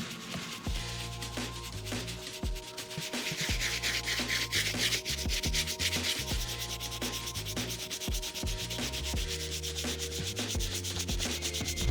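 Medium-bristle brush scrubbing the uppers of an Air Jordan 11 sneaker during a restoration cleaning, a steady rapid rubbing and scraping that runs continuously and close for the whole stretch, with no talking.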